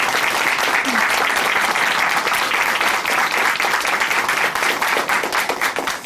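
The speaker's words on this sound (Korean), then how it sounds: "차금숙 자매님께 다시 한번 박수 부탁드립니다." Studio audience applause at a Korean Christian testimony program, steady dense clapping that stays loud and continuous throughout.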